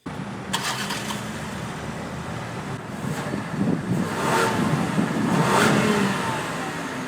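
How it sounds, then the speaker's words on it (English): A 2020 Lincoln Aviator's 400-horsepower twin-turbo V6 accelerates, its steady engine roar swelling louder and rising toward the end without any talking. "The Aviator gets a powerful and modern twin-turbo V6 that makes 400 horsepower and 415 pound-feet of torque"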